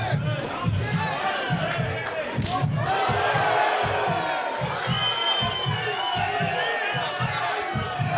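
A crowd at a kickboxing title fight roars and cheers loudly and continuously, with shouts rising above the din and rhythmic low thumps pulsing underneath.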